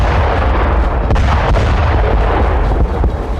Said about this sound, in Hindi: बारूदी तानाशाह ने एक बार फिर मिसाइल दागकर बड़ा धमाका किया।